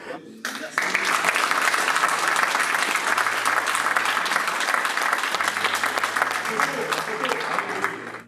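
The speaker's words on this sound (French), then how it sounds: "Cadeaux et applaudissements ont conclu ce moment de partage" A crowd bursts into loud, sustained applause that carries on steadily, with a voice heard briefly beforehand.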